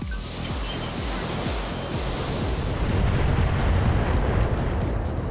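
Missile salvo launching in the mech strategy game BattleTech: a dense roar of many overlapping rocket bursts and rumbling booms that swells louder toward the end, with no talk.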